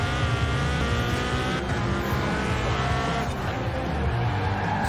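Ford Escort racing in Forza Horizon 4, engine droning steadily and loud throughout with tire squeal mixed in, no talk.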